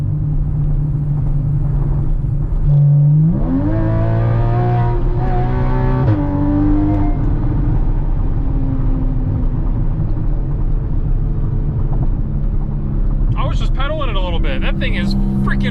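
A Porsche Cayman S 981 flat-six boxer engine revs up sharply after a downshift, a loud, rising in-car roar that holds steady while a person talks over it.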